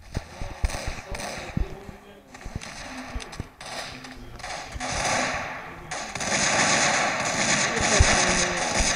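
Repeated sharp shotgun blasts go off in a video game, each with a booming tail, mixed with other gunfire and explosions over an irregular, busy rhythm while someone talks quietly underneath.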